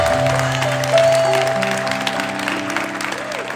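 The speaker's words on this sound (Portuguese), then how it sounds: "Você pode aplaudir ao Senhor pelo ministério de louvor dessa casa?" A church congregation claps for the Lord after a call to honor the worship ministry, a steady wash of applause with sustained tones from instruments or feedback underneath throughout.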